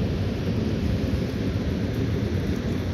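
Steady, dense rain falls outdoors at a whitebaiting spot in South Westland, New Zealand, a continuous loud wash of drops with no voices.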